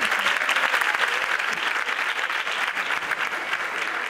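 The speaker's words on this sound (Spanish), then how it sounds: "fuerte aplauso para Alba Escribano" Steady, dense applause from a carnival proclamation audience in San Roque, continuous and loud throughout with faint crowd murmur underneath.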